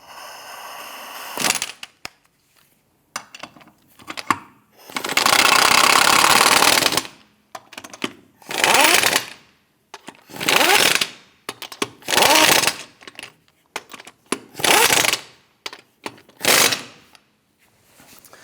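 Power tool snugging down the wheel lug nuts on a 2008-2013 Nissan Rogue, loud repeated bursts of whirring and rattling about a second each, separated by short pauses.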